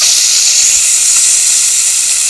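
Rui fish frying in hot oil, a loud continuous close hiss and sizzle with no pauses and no voices.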